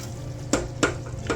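A spoon scrapes the sides of a pot of melting sugar as it cooks into caramel sauce for pumpkin spice no-bake cookies. Three short, crisp scrapes come at uneven intervals over a steady low stove hum.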